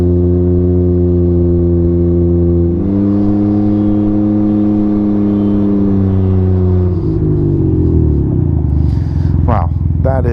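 A Can-Am Ryker three-wheeled motorcycle's engine drones loudly at a steady idle, then climbs in pitch and roars as it is revved hard near the end.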